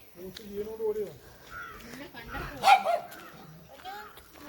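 A dog barks a few short times in a village in the evening, mixed with nearby voices talking, with one sharper, louder bark near the middle.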